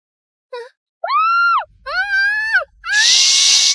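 A person screams in a dubbed Indonesian drama, a short yelp followed by two long, strained wailing cries and a final harsh, raspy shriek, loud and close with no other sound.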